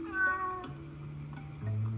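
A cat meows plainly at close range, a few drawn-out calls over quiet background with no talking.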